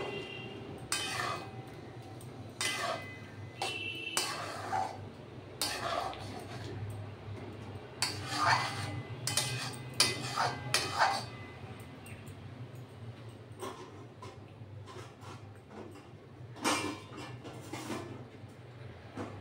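Ridge gourd and poppy seed curry is stirred in a metal pan, giving repeated close clinks and scrapes of a spoon at an uneven rhythm. A low steady background sits underneath, and there is no talking.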